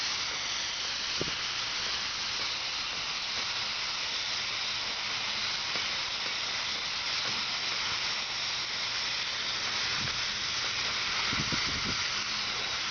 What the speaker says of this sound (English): I think the tractor just popped off safety valve.